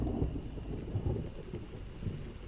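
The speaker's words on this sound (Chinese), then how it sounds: "雨 下雨了" Rain and thunder serve as a sound effect in a wartime spy drama: low, faint rolling rumbles come in a few swells over a soft, steady hiss of rain, with no voices.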